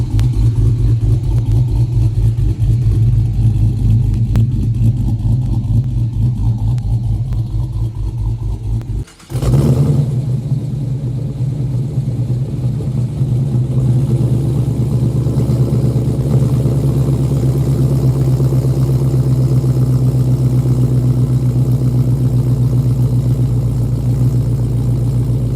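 Dodge Charger R/T V8 with an HRT Stage 2 COMP cam, a loud, close, lumpy idle with a choppy low rumble, a sudden blip of revs midway, then settling back to a steady burbling idle.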